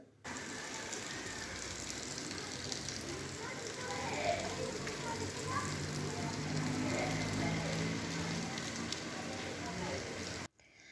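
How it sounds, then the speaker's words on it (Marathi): Rain falls outside in a steady, even hiss of drops on surfaces, lasting throughout at moderate level with a faint voice underneath. "बाहेर चालू झालेला आहे पाऊस"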